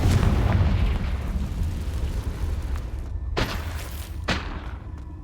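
Confringo fire spell explosions in Hogwarts Legacy, a rumbling booming blast followed by two sharp separate bursts, loud and close with no talk.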